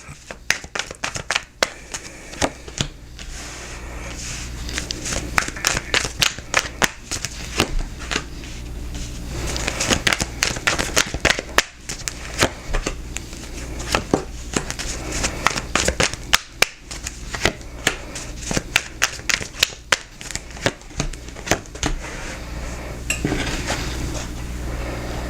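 Tarot cards being shuffled and handled for a Capricorn singles reading: a continuous run of crisp, close riffling and flicking clatters with sharp taps, fairly loud and steady throughout, with no voice over it.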